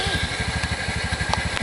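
A broken-down motorcycle engine running close by with a rapid, even, low chugging pulse.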